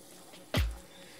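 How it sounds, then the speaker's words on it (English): Water poured into a jar of coffee grounds for homemade cold brew: one short splash lasting about a quarter second, which fades quickly into a quiet room. "And then we're going to add some water."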